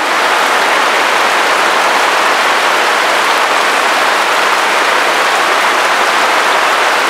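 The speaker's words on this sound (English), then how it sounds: "I got told the rain was coming, I just don't always believe it." Heavy, steady rain pours down with a dense, continuous hiss, loud and close, with no pauses or voices.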